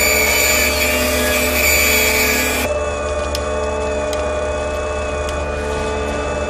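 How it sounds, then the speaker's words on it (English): A loud, steady mechanical whine of a drill running continuously, its pitch shifting partway through, with a few sharp clicks. "providing they maintain a constant rate of drilling"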